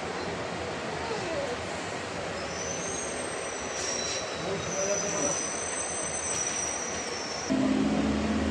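A train rolls past at a railway station, heard from inside a spectacles shop, with a continuous rumble, metallic wheel squeal and clatter, and a louder surge near the end; people talk faintly over it.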